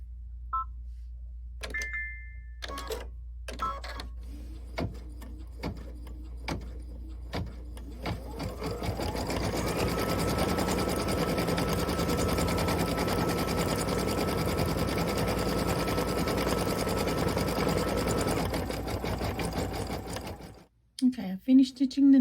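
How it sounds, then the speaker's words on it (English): An embroidery machine stitching numbers for a Kimberbell Cup of Cheer project: scattered clicks and beeps, then a long, steady, close mechanical whir of rapid stitching that stops abruptly near the end, followed by faint handling sounds. "Okay, I finished stitching the numbers."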